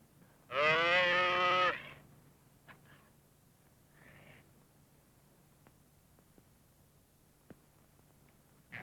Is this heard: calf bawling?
yes